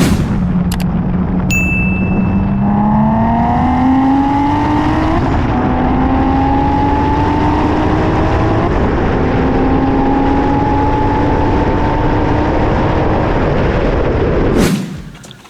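A Nissan 370Z swapped to a VR30 3.0-liter twin-turbo engine pulls hard from 60 to 130 mph. The engine note climbs steadily through each gear with brief dips at the shifts, staying loud and close throughout before it abruptly cuts off.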